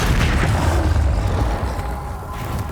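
Confringo spell explosion in Hogwarts Legacy, a loud booming blast with a rumbling low-end tail that fades over a couple of seconds, alone without talk.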